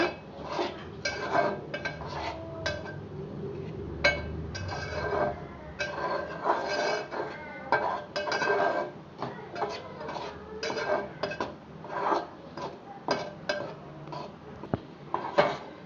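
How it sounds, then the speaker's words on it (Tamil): Wheat roasts in ghee in a pan on low flame, heard as steady rhythmic scraping and clinking of a spoon stirring against the metal pan, close and moderate, over a faint hiss. "நல்லா நல்லா கலர் சேஞ்ச் ஆகிற வரைக்கும் நல்லா வறுத்து எடுத்துக்கோங்க நெய்யில்"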